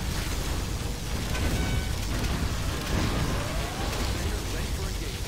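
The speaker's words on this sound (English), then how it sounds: "Particle cannon activated." Laser particle cannon strike in Command & Conquer Generals Zero Hour, a dense sustained roar of energy and explosions with faint sweeping tones, loud and continuous throughout amid a busy battle.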